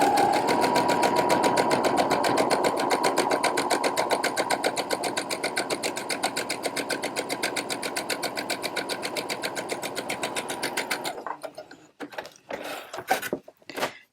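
A sewing machine chain-pieces quilt block fabric, running steadily with a fast rhythmic stitching hum for about eleven seconds, then stopping into a few separate clicks and taps.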